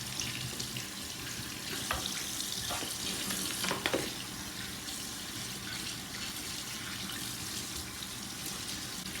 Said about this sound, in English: All right, so I want to get these rinsed.